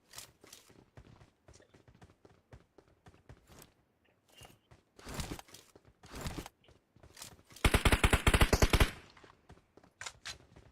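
Gunfire in the video game GTA 5 comes as scattered single shots, then dense rapid bursts of automatic fire peaking in a long loud volley, with sharp transients throughout and no clear talking.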